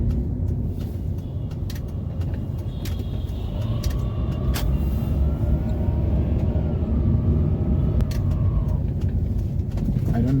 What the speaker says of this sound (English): whenever I accelerate and the compressor is on, my car starts to sound like an aeroplane taking off